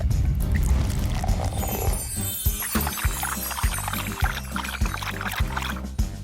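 Water poured into a bowl for animals in a children's cartoon, a liquid pour sound under a rhythmic musical backing with regular low thumps.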